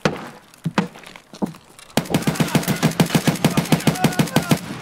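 Video game gunshots: a few scattered loud shots, then a rapid regular burst of around twenty evenly spaced reports fired close up.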